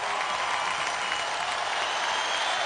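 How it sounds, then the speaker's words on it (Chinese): Broad, even audience applause for performers at a live gala show, a steady wash of many hands clapping without pause. "让我们掌声送给我们每一位诸位演出的嘉宾"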